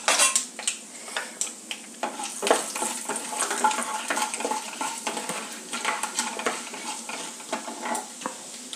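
Mustard seeds and urad dal crackle and spit loudly in hot oil for a tempering, a dense continuous sputter with occasional metal utensil clinks and no talk.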